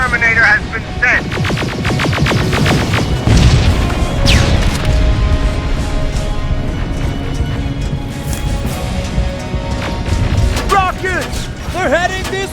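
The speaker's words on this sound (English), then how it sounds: "Rockets! They're heading this way!" Rocket explosions in the video game Terminator Resistance rumble and boom in a continuous, dense barrage throughout, loud and close, with crashing debris and mechanical noise layered over the blasts.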